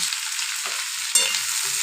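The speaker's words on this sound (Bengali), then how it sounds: "এ দেখো পেঁয়াজগুলো দিয়ে দিয়েছি, এবারে ভাজা ভাজা হবে" Steady, close hiss of onions frying in a pan for a dried-fish curry, with a brief louder crackle partway through and faint scraping underneath.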